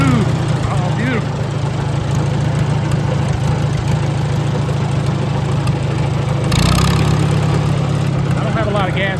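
Farmall Super A tractor engine chugging steadily in second gear, a continuous low rumble up close with a brief louder surge partway through, and someone speaking over it now and then.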